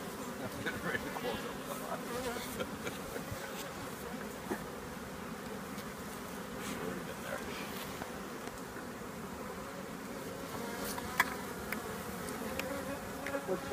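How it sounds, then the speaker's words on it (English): Honeybees buzz steadily around an open hive during requeening, a dense mid-range drone with individual bees passing near, and nobody speaks. "There's a bee right there."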